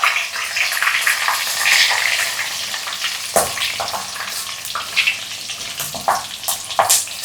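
Peanuts frying in a pan for homemade mixture, a steady close sizzle with scattered sharp crackles and stirring clatter throughout, no voices.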